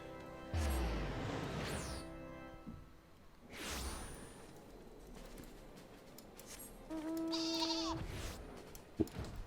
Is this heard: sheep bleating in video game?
yes